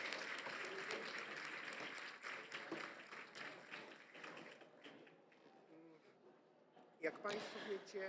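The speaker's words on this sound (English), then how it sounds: "please, huge applause" Congress audience applauding, a broad wash of many hands clapping that fades partway through, then a short fresh burst near the end, with voices speaking over it.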